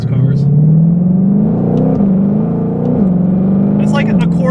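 A Shelby GT500 Mustang engine pulls at quarter throttle with a loud, steady rising growl and brief shift-like dips, close up and continuous, with faint talk at moments.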